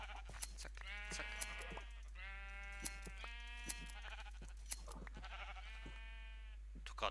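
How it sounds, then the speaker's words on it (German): Sheep bleat repeatedly in the video game Minecraft, a series of wavering, nasal cries at moderate level over a steady low hum, with brief clicks between calls. "Schafe."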